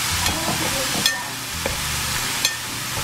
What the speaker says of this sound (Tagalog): gisa muna natin lahat.